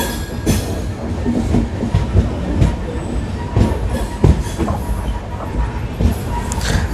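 A Chennai superfast train clatters along near the Netravati river bridge, loud and close, with rhythmic wheel clacks and occasional sharp knocks over a constant rumble.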